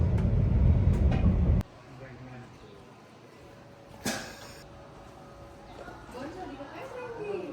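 Inside a Swiss train near Lauterbrunnen, a loud low rumble fades into a quieter steady carriage hum, with a sharp clunk midway and voices speaking over it.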